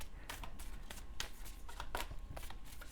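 Moon oracle cards shuffled by hand, a close, steady run of soft riffling flutters repeating every half second or so, with no talk over it.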